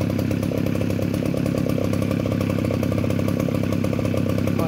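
A new Shibaura grass cutter engine runs steadily at close range, a loud continuous buzzing drone with a fast pulsing rhythm and no talk over it.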